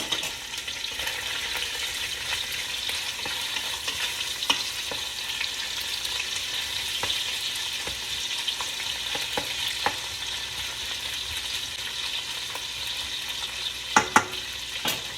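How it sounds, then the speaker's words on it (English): Ingredients for Caldo Verde, a Portuguese greens soup, fry in a pan with a steady, even sizzle throughout, close and unbroken, with a couple of brief utensil clicks near the end. "I'm going to fry them up a bit. Takes about 5-6 minutes."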